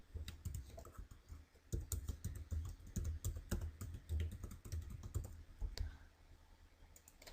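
Rapid, steady keystrokes on a computer keyboard while a VIN is entered for a vehicle registration, a quiet, close clatter of many irregular clicks running for several seconds with no voices.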